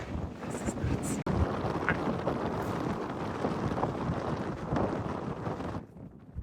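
Steady wind buffeting a microphone outdoors in Rocky Mountain National Park, a continuous broadband roar for about six seconds that drops off abruptly near the end.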